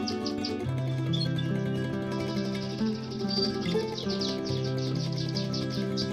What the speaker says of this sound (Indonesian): Burung akan mandi sendiri sepuasnya.